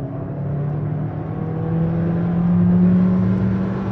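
Alfa Romeo Tonale 1.5 160 hp mild-hybrid with TCT7 gearbox pulling hard under full throttle, a steady engine drone rising gradually in pitch and loudness from inside the cabin, no voices.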